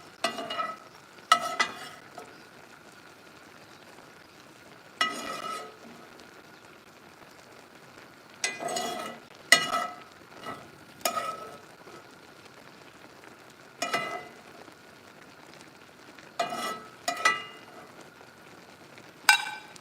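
Noodles stirred in a frying pan over a steady low sizzle, with a series of sharp scraping and clinking utensil strokes coming in irregular bursts, close and moderately loud.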